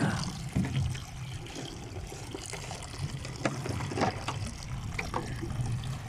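Water flowing from a natural spring, a close, continuous trickling and splashing with small irregular spatters, no voices.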